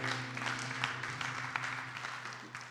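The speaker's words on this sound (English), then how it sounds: "Give them a round of applause." A Unity of Sacramento congregation applauds its new Board of Trustees during a Sunday service, moderate clapping with a few crisper individual claps over a faint steady hum, tapering slightly over under three seconds.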